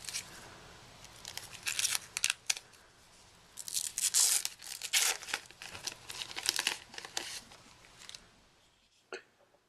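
Plastic wrapping is torn and crinkled off a refurbished second-generation Apple iPod nano in bursts of sharp ripping and crackling, close and loud, with brief pauses between pulls.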